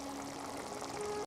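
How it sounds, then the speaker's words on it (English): Water pours steadily into a pan of chickpea masala for just over a second, a close, even splashing rush that stops abruptly. "Pour in a little water and let everything simmer."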